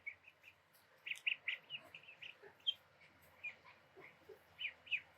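Three- to four-week-old ducklings on a small duck farm peep in short, high chirps that come in scattered clusters, faint and near, over a quiet background with no talking.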